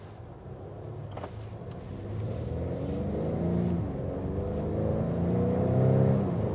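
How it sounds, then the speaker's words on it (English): A 2021 Acura TLX A-Spec sedan accelerates hard, its engine revving steadily upward in a rising, close drone that builds in loudness over several seconds, with no talking. "So we had the opportunity to get a quick acceleration here."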